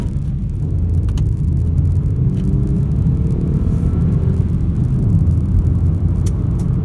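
Steady road rumble and engine hum of a 2016 Hyundai i10 hatchback driving along, heard from inside, with a faint rising whir as it quickly picks up speed to 100 km/h.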